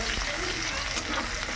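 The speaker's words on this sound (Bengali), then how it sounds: "পেঁয়াজটা একটু লাল লাল করে ভাজতে হবে।" Chopped onion fries in a hot pan, giving a steady, loud, dense sizzle that fills the whole stretch without letup.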